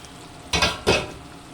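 Chicken sarciado bubbling in a pot on the stove, heard as two short bursts of loud, hissing bubbling and sizzling over a low background.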